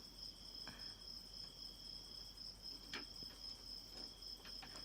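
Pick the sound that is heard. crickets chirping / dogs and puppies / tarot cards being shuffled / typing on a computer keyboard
crickets chirping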